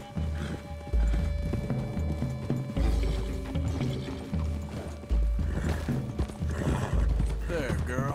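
Horse hooves clip-clopping in Red Dead Redemption 2 gameplay as riders approach a forest clearing, a steady close rhythm under music, with a horse whinny and brief game dialogue.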